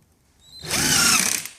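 A cordless power drill drives a screw into the bottom of a 9100E cabinet back panel, one loud close whir that ramps up and holds for about a second.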